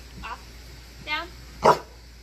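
A 10-month-old pitbull mix dog barks at someone holding a phone during a training session: three short, sharp barks spaced about a second apart, growing louder, close by.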